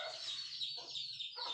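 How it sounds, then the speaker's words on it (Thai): Chickens clucking nearby: a short burst of throaty, nasal clucks and squawks, close and clear, with no talking. "เสียงไก่"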